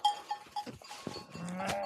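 A flock of sheep in hill country near Malkabang, Nepal, with several wavering bleats close by, overlapping calls toward the end and a light clinking like a bell, but no talk.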